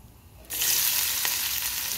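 Crushed garlic drops into hot oil in a wok and breaks into a sudden loud, steady hiss and crackle of frying, heard close up with no talk.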